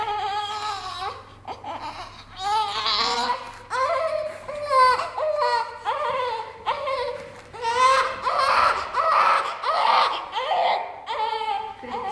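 A baby cries loudly in repeated wailing bursts, close and continuous for about twelve seconds, with possible brief laughing sounds mixed in.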